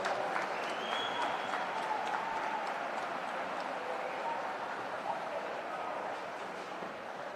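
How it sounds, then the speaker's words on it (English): Spectators on a swimming pool deck at an age group championship finals applaud, a steady roar of clapping echoing in the indoor venue, gradually fading over several seconds with faint voices mixed in. "Give them a big round of applause"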